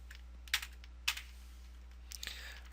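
Typing on a computer keyboard: a few quiet, close key clicks spaced apart, then a short quick cluster of taps at the end over a low electrical hum.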